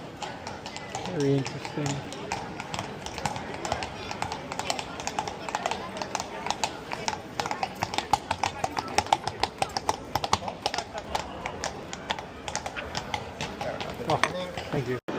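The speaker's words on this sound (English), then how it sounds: "We have horse carriage rides here." Hooves of a carriage horse in Krakow clip-clop in a brisk, steady rhythm of sharp taps. The sound is close and continuous over street ambience, and a voice speaks briefly.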